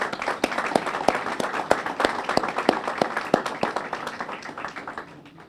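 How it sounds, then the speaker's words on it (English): Round of applause from the audience at a press conference naming a university head football coach, a dense, steady spatter of many hands clapping that holds throughout and tapers slightly at the end. "Let's give her a round of applause, please."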